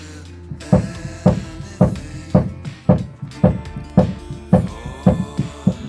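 An LG 19kg washing machine runs a cycle with a loud, regular thumping, a heavy knock roughly every half second, each followed by rattling and a droning hum, close and steady.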